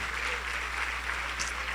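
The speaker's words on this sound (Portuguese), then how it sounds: "Aplauda ao Senhor" A church congregation applauds during a worship service, a steady dense wash of clapping lasting the whole short moment at even loudness, with no voices standing out.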